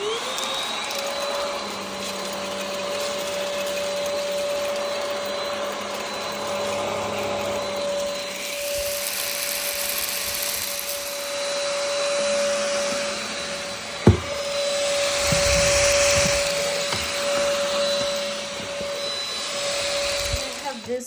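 A Vactidy cordless stick vacuum runs steadily on fluffy bedroom carpet picking up dog hair, a loud continuous whine with shifting airflow rush as it is pushed along, and a brief knock partway through.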